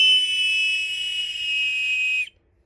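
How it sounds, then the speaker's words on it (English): Emergency whistle built into a camping knife, blown in one long, steady, shrill, piercing blast for a little over two seconds, loud and close, then cut off sharply. "It has a freaking whistle."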